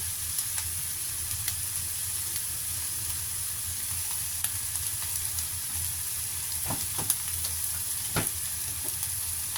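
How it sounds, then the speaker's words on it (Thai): Instant noodles stir-frying with sweet and sour sauce in a hot pan, a steady close sizzle with occasional clicks and scrapes of stirring throughout. "ใส่ซอสเปรี้ยวหวานเข้าไปจ้ะซอสเปรี้ยวหวานนะคะ"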